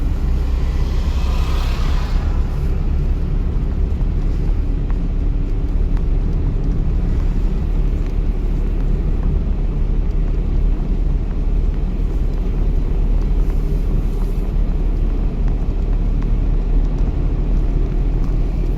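A driving-school car's engine drones steadily from inside the cabin as a learner driver accelerates on the road, a loud, continuous low rumble with no clear rise and fall.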